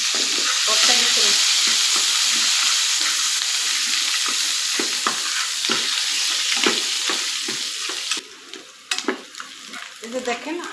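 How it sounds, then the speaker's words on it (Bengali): Garlic fries and sizzles steadily in a pan for a beef mash, loud and close, with soft stirring scrapes and the sizzle easing near the end. "এই যে দেখেন আমার রসুনগুলো ভাজা হয়ে গেছে।"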